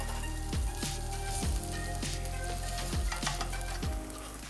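Spam and scallions sizzling in a hot pan for Korean dumpling fried rice, a steady bright fry hiss with repeated low thumps and scrapes as the ingredients are tossed, close and continuous with no talking.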